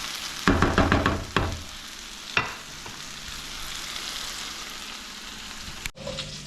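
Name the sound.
beef sautéing in a pan until golden brown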